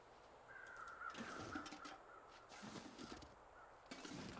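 A crow caws in The Long Dark video game: a few short, rough calls, fairly quiet and spaced apart over a low windy background.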